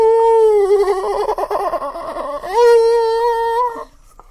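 A human voice mimics a whale call with long, wavering, sliding hoots and moans, rising near the end before cutting off.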